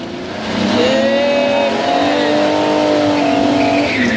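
Rally car engine revving hard at a Barbórka 2014 rally event in Rydułtowy, loud and close, with rising and falling rev sweeps and a brief tire squeal, sustained throughout.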